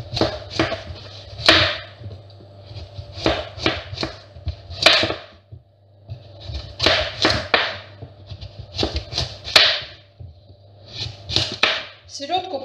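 A knife chops through pattypan squash on a board in sharp, close, irregular bursts of cuts separated by short pauses, with someone talking quietly between strokes.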